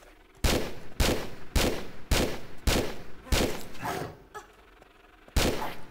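Gunfire in Tomb Raider III Remastered: a run of about eight loud, sharp shots at a fairly steady pace, each with a short ringing tail, and a brief gap near the end before a final blast.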